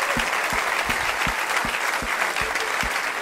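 Sustained applause fills a hall during a talk on risk, with a dense crowd clatter and a regular low thump repeating about every third of a second underneath.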